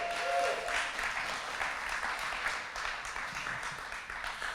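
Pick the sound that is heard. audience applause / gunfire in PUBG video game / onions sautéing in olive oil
audience applause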